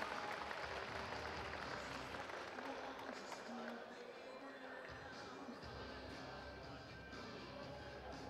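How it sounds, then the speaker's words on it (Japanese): Spectators at an indoor fan festival give a long round of applause, a continuous, fairly faint patter of clapping with scattered crowd noise and voices underneath. "大きな拍手をお願いいたします"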